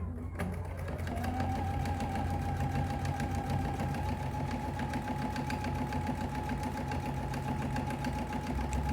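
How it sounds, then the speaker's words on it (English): A sewing machine runs continuously at an even speed, sewing the side and bottom seams of a fabric art-panel basket at a half-inch allowance, a steady mid-level whir with no pauses. "I'm going to sew down both sides and then across the bottom."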